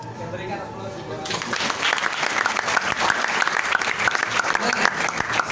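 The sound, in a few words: audience applause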